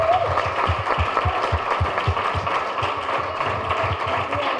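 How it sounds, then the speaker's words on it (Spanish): Applause for Manuel at a town hall gathering in La Puebla del Río: a room of people clap steadily and fairly close, a rhythmic patter of hands with some voices mixed underneath. "un aplauso para Manuel por sus preguntas"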